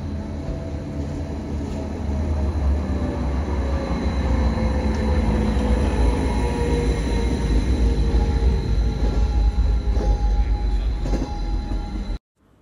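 A train rumbles loudly and continuously from inside a carriage, with a low steady roar and a faint squeal of wheels, ending abruptly.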